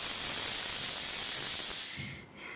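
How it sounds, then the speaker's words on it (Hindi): A pressure cooker lets off a loud, steady steam whistle with a hissing edge, heard alone indoors in a home kitchen, then cutting off abruptly near the end. "ये जो है कुकर में अभी कुछ बन रहा है तो वो सीटी लग रही है"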